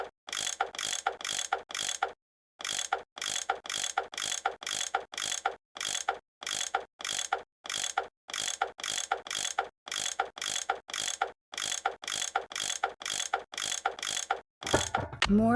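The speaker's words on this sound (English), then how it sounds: "That tool I saw in the caboose, I bet that's what you use to unscrew these bolts." Repetitive mechanical ratcheting from a wrench-like tool unscrewing bolts in the Nancy Drew game Last Train to Blue Moon Canyon: loud, steady bursts of clicks in rapid rhythm, briefly pausing a few times, with no talking.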